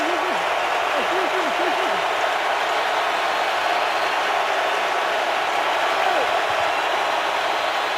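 Broad, steady roar of a stadium crowd at an NFL football game, Seahawks at Colts, a dense constant wash of cheering noise with a few faint voices poking through near the start.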